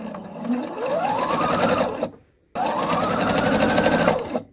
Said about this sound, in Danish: Og så skal jeg sy sidesømmen med 1 cm sømmerum